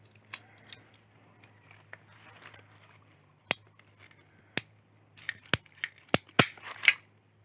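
Scissors cut through a breeding tank irrigation hose: sparse sharp snips at first, then a quicker cluster of crisp cuts and clicks near the end, close and clear over a low steady hum.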